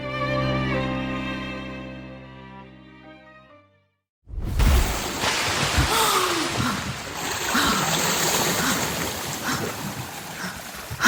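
Cold water splashes as a sound effect in an audio drama, a sudden loud wet burst after a quiet musical passage, followed by continuous rushing, churning water.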